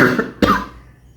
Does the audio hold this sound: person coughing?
yes